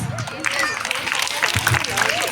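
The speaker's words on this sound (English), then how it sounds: "Let's encourage with a big applause." A school audience at a Mahashivratri celebration gives a steady round of applause, dense clapping mixed with crowd chatter throughout.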